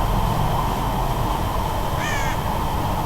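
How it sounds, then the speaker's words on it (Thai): Crows cawing inside the Tomb Raider game, a few short harsh caws standing out briefly over a constant ambient wash of in-game background noise. "โอ้โห อีกา"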